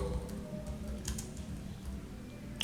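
Keys are tapped on a computer keyboard to rename a Windows 11 desktop, a few soft, faint keystrokes over a steady low hum.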